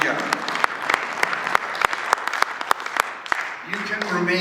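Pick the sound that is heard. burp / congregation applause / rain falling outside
congregation applause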